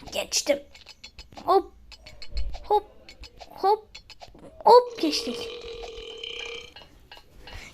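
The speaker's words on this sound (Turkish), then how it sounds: "geğiriyor resmen ya" Repeated short burps ring out during a game of Roblox Barry Prison, several distinct belches spaced a second or so apart, with a voice babbling and laughing in between.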